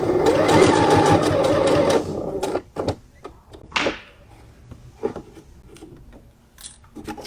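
A sewing machine stitching fabric with pins set at an angle along the seam, running in a fast, steady mechanical whir for about two seconds, then stopping, followed by scattered clicks, handling knocks and a brief sliding scrape.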